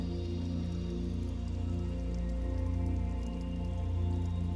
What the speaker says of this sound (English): it starts to rain heavier.